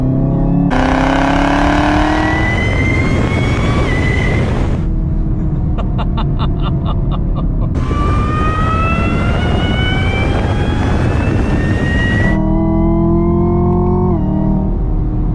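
Loud, close engine roar from a supercharged Chevrolet Camaro ZL1 with the LT4 V8, revving hard through rising pitch sweeps with a couple of brief breaks between shifts and a steady supercharger whine throughout.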